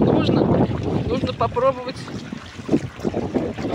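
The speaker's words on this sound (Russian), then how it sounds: "Вот какие они волны." Wind and sea waves roll around a sailboat running under full sail on open water, a steady rushing wash with gusty buffeting close to the microphone while people talk over it.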